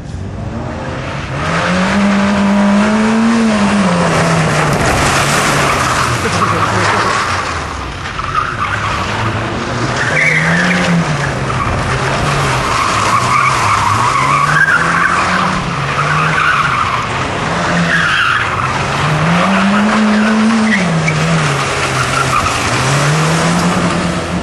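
Peugeot 205 rally car skidding and revving hard, engine note rising and falling in repeated swells over continuous tyre scrub and gravel noise, loud and close throughout.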